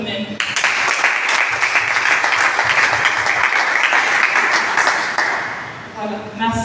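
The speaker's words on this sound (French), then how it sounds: "On peut s'applaudir pour nous-mêmes." A conference audience at an event on including women with albinism breaks into sustained, dense applause that fills the room almost throughout, fading briefly near the end before a few last claps.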